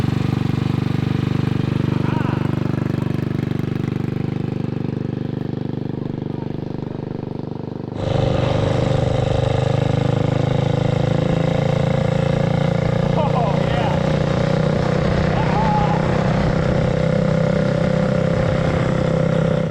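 A 228cc engine powers a custom 4x4 Ford Bronco go-kart built on a Power Wheels frame. Its close, buzzing drone holds steady, then jumps sharply in pitch and loudness as the throttle opens midway and stays high while driving.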